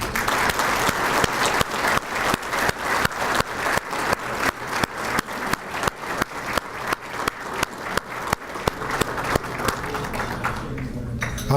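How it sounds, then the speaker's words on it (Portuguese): Sustained applause from a luncheon audience at a lawyers' institute meeting, honouring a late former president: steady dense clapping that runs without a break for about eleven seconds before thinning out at the end. "que nós dessemos uma salva de palmas ao saudoso presidente Rubens Aprobato Machado"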